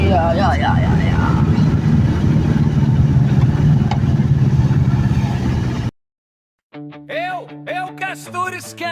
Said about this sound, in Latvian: Kas tur skan, divi cilindri te skan. Skaļš motors